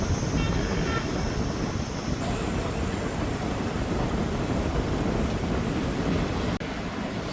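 Kalka–Ambala Cantt passenger train, no. 54532, rolling along the track after pulling out of Lalru station, a loud steady rumble and rush of wheels and wind heard from inside the carriage, continuous and close.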